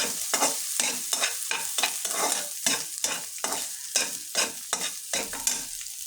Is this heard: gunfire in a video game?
no